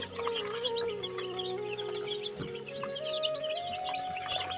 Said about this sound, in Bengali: এটা হচ্ছে হান্ড্রেড পার্সেন্ট অরিজিনাল টাইগার মুরগির বাচ্চা আজকে বাচ্চার বয়স হচ্ছে একদিন